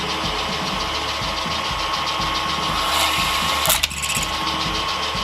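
Pillar drill running steadily as its bit bores through a clamped workpiece, a constant close mechanical whir with a brief jolt near the end as the bit breaks through and lifts.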